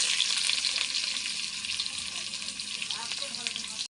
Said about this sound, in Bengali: এবার দিয়ে দিচ্ছি কুচি করে রাখা পেঁয়াজ